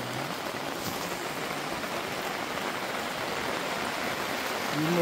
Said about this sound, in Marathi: धुकं आणि पाऊस आहे इथं.